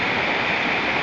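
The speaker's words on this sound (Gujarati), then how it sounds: "અત્યારે ફૂલ વરસાદ એકદમ આવી ચૂક્યો છે" Heavy rain pours down in a steady, dense wash of noise, loud and continuous with no voices or breaks.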